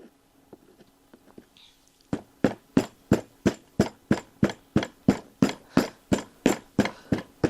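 A hammer butt packs oil-bonded casting sand into a mold, about sixteen steady, evenly spaced thuds after a quiet start with a few faint taps, close and moderately loud.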